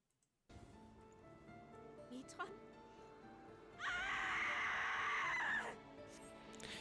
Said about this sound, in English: it really sounds like she's in pain with that scream